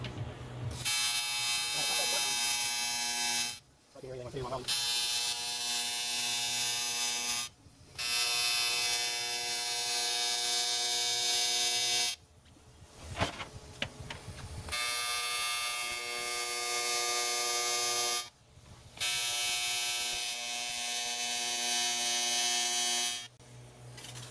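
A Miller Dynasty 280 TIG welder runs on an aluminum hydraulic tank, giving a steady, loud electric buzz with many harmonics that plays in several long stretches, broken by short pauses and a brief spell of other noise.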